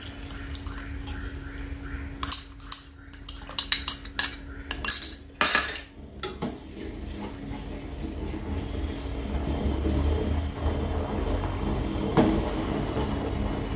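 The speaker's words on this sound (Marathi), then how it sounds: "आता हे सारखं असं ढवळत राहायचंय" A spoon scrapes and clinks against a pot while fruit custard milk is stirred over low heat, with sharp metallic taps early on that settle into a softer, liquid swirling sound.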